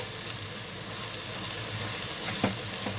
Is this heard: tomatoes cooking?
yes